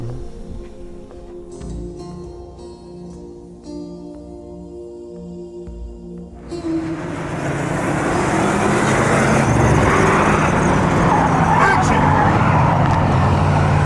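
Car engine revs up and the tyres roar as the vehicle swings through a Hollywood 180 spin, loud and rising after a stretch of people talking inside the cabin.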